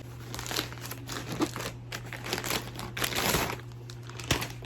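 Packaging crinkles and rustles continuously as a parcel is opened, close and fairly soft, with small crunching peaks and no talking.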